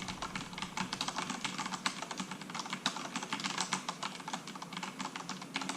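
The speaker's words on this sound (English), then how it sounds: "I'm going to do some quick typing." Fast typing on a Corsair K68 RGB gaming keyboard, a dense run of crisp key clicks and clacks at close range, continuous and fairly loud with no talking.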